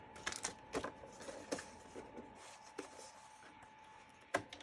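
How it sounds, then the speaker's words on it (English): A sewing machine stitches fabric held in place with a strip of purple tape, giving a steady motor whine under a run of sharp mechanical clicks and taps, close and fairly quiet, with no talking. "And I will sew this down."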